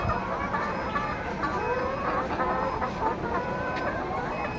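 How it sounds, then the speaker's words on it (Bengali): Layer hens on a poultry farm cluck steadily at close range as they eat feed, with overlapping calls. "লেয়ার মুরগি দেখুন এই যে মুরগি কি সুন্দর"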